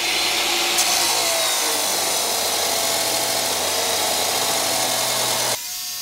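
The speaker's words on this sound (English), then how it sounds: "First, we'll cut off a 1-foot section of 2-inch square tubing." A one-foot section of 2-inch square steel tubing being cut with a power tool, a loud continuous grinding drone that holds steady for several seconds before stopping abruptly near the end, with no talking.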